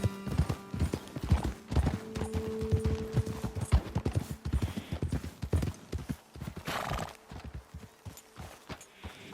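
Steady clip-clopping of horse hooves in the video game Red Dead Redemption 2, fairly close, with a brief whinny partway through and a few faint background sounds.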